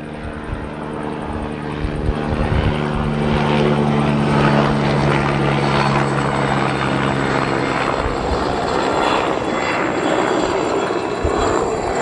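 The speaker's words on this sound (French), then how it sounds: "Je laisse passer l'hélicoptère." A helicopter passes overhead, its loud steady rotor thrum and engine whine filling the scene continuously and growing slightly stronger midway.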